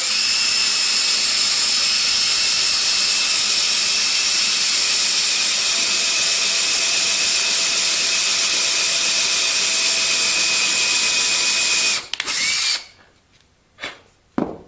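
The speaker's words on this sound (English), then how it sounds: "So let's go ahead and pre-drill." A power drill whines loudly and steadily for about twelve seconds while pre-drilling softwood, then cuts out and gives a few brief bursts before stopping.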